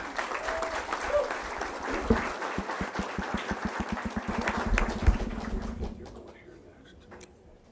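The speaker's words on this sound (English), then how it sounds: "Round of applause for Ella McGrath" Applause in a school board meeting fades after about six seconds. Scattered clapping builds into dense, steady claps with some crowd murmur and talk over it.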